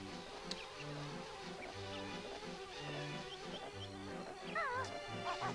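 Bees buzz in the Banjo-Kazooie video game, a faint wavering drone over bouncy game music, with a few whooshing sound effects.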